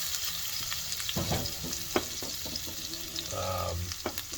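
Garlic frying in a hot pan, a soft ongoing sizzle with scattered stirring clinks and scrapes at close range and no speech.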